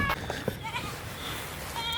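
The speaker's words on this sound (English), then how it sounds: "Goats are alive." Goats bleating on an icy farm, several short nasal bleats near and far over steady outdoor background noise, with a few brief louder cries.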